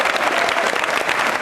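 A studio audience applauds loudly during a televised Rajasthani quiz programme marking three years of the Union Government, dense clapping sustained evenly throughout.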